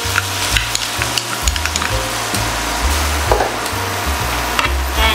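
Garlic and onion sauté in hot oil with a loud, steady sizzle and crackle close up, broken by a few knocks and stirs of a utensil, with no talking.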